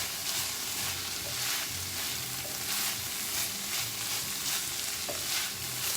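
Sausage-style tempeh crisping in a hot pan, a dense continuous sizzle with light stirring scrapes, close and steady with no talk.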